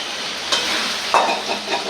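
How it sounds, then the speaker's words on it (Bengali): Mixed vegetables and spices stir-fry in a pan with a bright, continuous sizzle and a couple of sharp scraping stirs, loud and close with no talking. "একটু কষাকষি করে লই"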